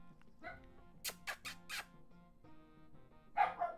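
A pet dog named Ash lets out a quick run of four sharp barks, close and fairly loud, with softer yips and squeaks before and after in a quiet indoor room.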